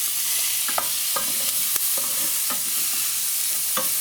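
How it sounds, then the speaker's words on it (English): Browned onions frying in a pan as tomatoes go in, a steady loud sizzle with several sharp clicks and scrapes of a utensil stirring, close up. "Okay, now my onion is brown."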